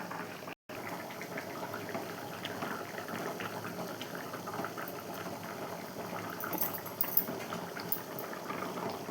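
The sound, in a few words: tamarind drumstick and brinjal kuzhambu boiling in pot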